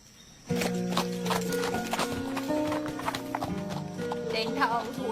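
Horse hooves clip-clop steadily during a ride in a Bollywood film scene, with music and people talking throughout.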